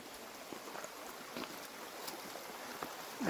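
Ivy Creek, a mountain stream in Virginia, flowing steadily beside a hiking trail, a soft continuous rush of water with faint splashes and a few light footstep-like knocks, heard alone without talk.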